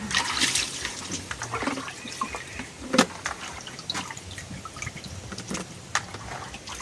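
Pieces of fish are washed by hand in water while dried fish is being prepared, with irregular splashes, trickles and drips close by. A sharper splash stands out midway.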